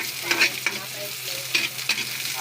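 Vegetables sautéed in a pan for ginisang gulay, a continuous sizzle broken by several short scraping stirs of a utensil, close and without talk.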